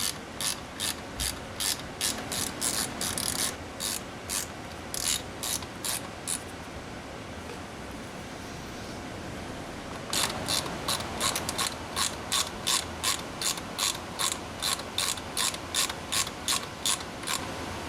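A ratchet tightens bolts during combination switch replacement on a Honda Accord, giving rapid, regular clicking in two long runs separated by a pause, close and crisp over a steady background hiss, with no talk.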